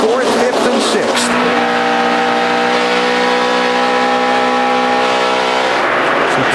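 NASCAR stock cars racing at Kansas Speedway, a steady loud engine drone with sustained harmonic whine as cars run past, with race commentary talking over the roar throughout.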